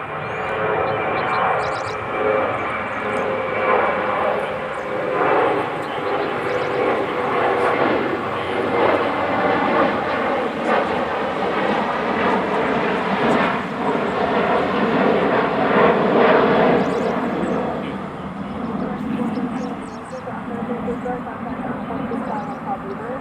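Jet aircraft at DFW airport during reverse-flow operations, a steady broad engine roar that swells and holds for over twenty seconds, fairly loud and continuous, with people talking over it.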